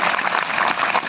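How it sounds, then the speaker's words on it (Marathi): A crowd claps steadily for a young girl singer at a Marathi kirtan gathering, dense, even applause that fills the whole moment without pause. "तिच्यासाठी टाळ्या वाजवा जरा सगळ्या"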